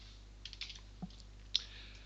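A few scattered keystrokes on a computer keyboard, faint soft clicks in a quiet room with a low steady hum beneath.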